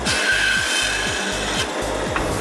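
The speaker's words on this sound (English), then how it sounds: "Heikka Alakope cuts reindeer antlers." A saw cuts through reindeer antler for knife handles, with steady back-and-forth strokes repeating in an even rhythm, close and fairly loud over a faint background hum.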